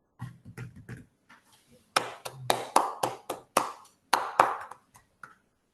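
A conference audience gives a round of applause for three history panelists, a fairly close burst of clapping that swells, breaks into several loud waves and tapers off over a few seconds, with a few scattered claps before it.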